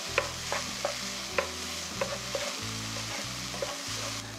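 Mushrooms, bell pepper and tomato stir-fry in a pan for a Spanish omelette, a steady sizzle broken by regular sharp scrapes and taps of a utensil against the pan, close and loud, with no voices.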